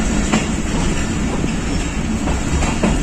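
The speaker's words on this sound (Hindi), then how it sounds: "दो 226 down Shaheen passenger Wazirabad junction पहुंच रही है।" Shaheen Passenger train pulling into Wazirabad Junction on Pakistan Railways: a loud, steady rumble of rolling carriages heard from aboard, with faint rhythmic clickety-clack of wheels over rail joints and no voices.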